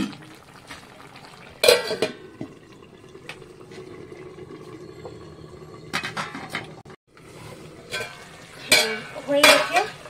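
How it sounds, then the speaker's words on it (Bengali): Beaten eggs are stirred into a pan with cucumber, giving sporadic bursts of metal spoon scraping and clinking against the pan between quieter stretches of low cooking noise. "তো এবার আমি এই ডিমগুলো সব ছেড়ে দেবো, দিয়ে নাড়িয়ে চাড়িয়ে আবার একটু ঢাকা দিয়ে রাখবো 2 মিনিটের জন্য।"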